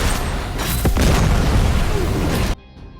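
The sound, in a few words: gas cylinder explosion in film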